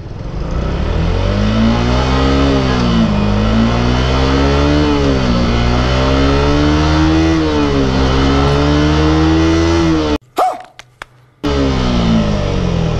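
A Suzuki Gixxer motorcycle fitted with a racing CDI accelerates hard in second gear, its engine note climbing loud and steady for several seconds, dipping briefly as it shifts, then roaring on, with no voices.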